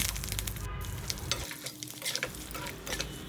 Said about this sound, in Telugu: ఎండుమిరపకాయలు వేసేసుకుందాం. తర్వాత ఇంగువ, కరివేపాకు వేసేసుకుని స్టవ్ ఆఫ్ చేసేద్దామండి.